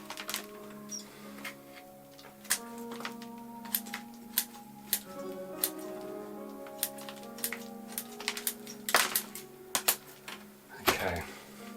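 Bonsai roots of a larch, coarse and matted over a rock, snipped away with shears in a series of quiet irregular clicks and snaps, faint and close, with soft rustling and light handling noise between cuts.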